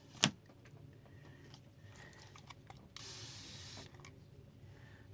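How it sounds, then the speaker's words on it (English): A spray bottle misting watercolor paints for a mixed-media art piece, a steady broadband hiss lasting about a second, close and fairly loud, preceded by a sharp click and faint handling noises. "Spray them."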